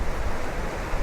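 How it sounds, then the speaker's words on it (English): Fast-moving river rapids rush past near a trail bridge, a dense, continuous roar of churning water with no pauses, brief and steady in loudness. "look at the rapids. The water's moving really fast here."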